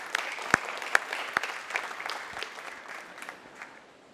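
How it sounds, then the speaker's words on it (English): Conference audience applauding at a day-two opening session, scattered individual claps standing out sharply at first over a thin round of clapping that gradually thins and fades toward the end. "I'd like you to all give her a big round of applause."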